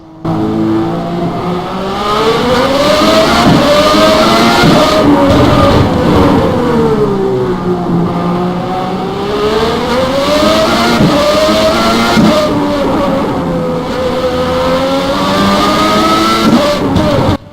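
An ASR Formula race car with a Lamborghini engine in rFactor 2 revs hard and loud, its pitch rising and falling through repeated gear changes and corners, heard alone without talk.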